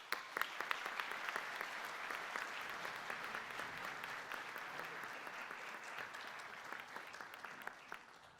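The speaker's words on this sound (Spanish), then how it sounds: "Reciban con un fuerte aplauso a Oso Traba." Audience at a university industrial engineering alumni panel event applauding a panelist, a sustained wash of clapping that stays even for several seconds, faint and distant, tapering slightly near the end.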